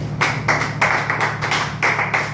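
Students in a classroom clapping together in a quick rhythmic pattern of about eight synchronized claps, close and clear with little else around them.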